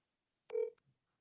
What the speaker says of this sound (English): So look, I'm gonna make a quick phone call right now.